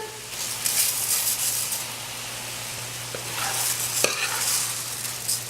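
Rice is stirred into a hot pot for Caribbean chicken pelau, producing a continuous sizzle with soft scraping stir strokes and a couple of sharp utensil knocks against the pot.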